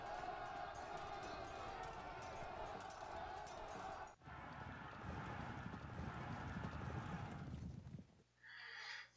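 Cavalry charging in the Pike and Shot strategy game, a dense continuous rumble of galloping hooves and horse noise with crowd-like battle clamor, steady and loud for about eight seconds before cutting to quieter game sounds.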